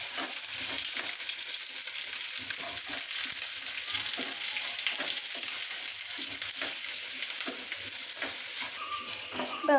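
Chopped ginger and green chilli fry in a pan and are stirred steadily, a continuous bright sizzle with soft scraping running evenly throughout, close and alone with no voices.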